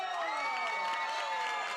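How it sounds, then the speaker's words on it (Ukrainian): Spectators at an MMA bout cheer and applaud the winner, a faint, steady roar of crowd voices and scattered clapping with a few higher shouts, heard from a distance with no clear speech. "Після кожного поєдинку присутні оплесками вітають переможця."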